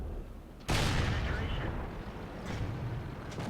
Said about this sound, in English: Artillery just fired and missed, which always makes me happy.